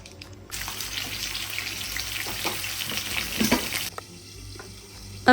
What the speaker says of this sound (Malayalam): ബർഗർ റെഡിയാക്കാൻ വേണ്ടിയിട്ട് ഫ്രൈ ആക്കാൻ വേണ്ടി വെച്ച് കൊടുത്തിട്ടുണ്ട്